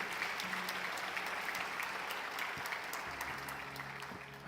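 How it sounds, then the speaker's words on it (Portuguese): A church congregation applauds Jesus during a Portuguese-language sermon, the clapping a dense, steady wash of many hands that holds at an even level throughout. "Pode aplaudir Jesus por isso?"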